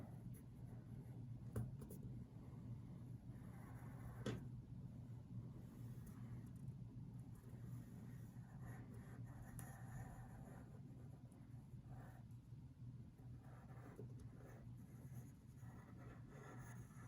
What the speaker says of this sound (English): All right, so I've traced my first piece right there.